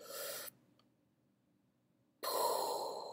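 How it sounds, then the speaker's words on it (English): A person taking a deep breath, heard as a loud airy rush of breath, then a quiet pause of almost two seconds, then a second strong breath. "Just taking a deep breath."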